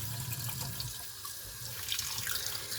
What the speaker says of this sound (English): before you touch the rice, wash your hands